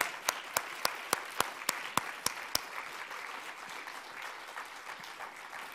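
Audience clapping for a media prize winner, about ten loud rhythmic claps close by at first, fading into softer, dense scattered applause from the crowd.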